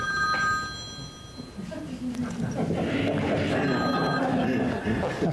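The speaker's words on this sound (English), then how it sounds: "I forgot to tell you to turn your cell phones off." A cell phone rings during a talk on letting go and impermanence, its tonal ringtone repeating over the first few seconds while a speaker's voice carries on beneath and after it in a room.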